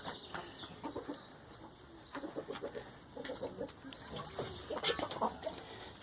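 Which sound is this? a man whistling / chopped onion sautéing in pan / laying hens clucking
laying hens clucking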